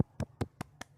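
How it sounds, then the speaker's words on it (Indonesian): A class applauding: six evenly spaced claps, sharp and fairly close, with no talk. "Beri tepuk tangannya untuk kita semua."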